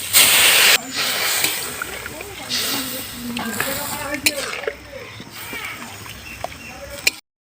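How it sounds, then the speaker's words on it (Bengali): Water poured into hot spice mixture in a pan gives a loud hissing sizzle that settles into a steady bubbling, with a few clinks of utensils and a voice talking over it. "এবারে দিয়ে দেবো জল।"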